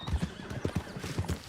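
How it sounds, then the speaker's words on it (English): Several horses gallop in Red Dead Redemption 2, a quick rapid run of hoof thuds and clip-clops at moderate distance, with a whinny mixed in, over a brief stretch of about a second and a half. "Horses running away from you as the sun sets"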